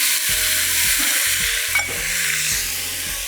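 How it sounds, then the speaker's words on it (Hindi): Chicken being fried and stirred in ghee with whole garam masala, a steady loud sizzle broken by repeated scraping stirs of the spoon through the pan, with no talking. "चिकन को अच्छी तरह भूनिए घी में और साबुत गरम मसाला।"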